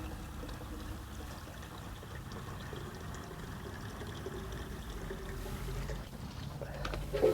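Water pours steadily from a watering can mixed with root stimulator onto a potted rose, a soft continuous trickle and splash that runs close by and grows a little louder toward the end.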